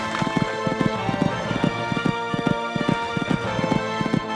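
A horse cantering on a cross-country eventing course, its hooves striking the ground in a quick, regular three-beat rhythm that is close and clear, with no talk over it.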